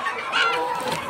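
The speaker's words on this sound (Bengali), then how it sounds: "সব মিলে কিন্তু আমার এই 1500 লেয়ার মুরগি" Layer hens on a Bangladeshi poultry farm with about 1,500 birds, raised on a floor system, cluck in a dense, continuous chorus for about a second.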